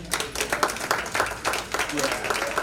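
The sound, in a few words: audience clapping for the chairman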